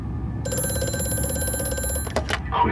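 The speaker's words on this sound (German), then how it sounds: "Oh, Telefon." An old bell telephone rings in the horror game Amnesia: A Machine for Pigs, a sustained metallic trill that stops abruptly and is followed by a couple of clunks, loud and with no speech.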